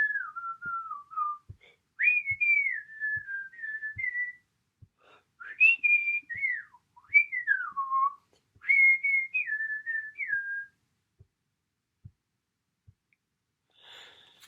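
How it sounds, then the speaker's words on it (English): Someone whistles a wandering melody in short phrases, close and clear, with soft breathy pauses and faint ticks between phrases. "the constable yawned noisily and began to whistle."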